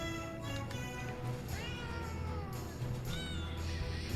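Cats meowing in the Potionomics video game, several short rising and falling meows over a steady game music bed.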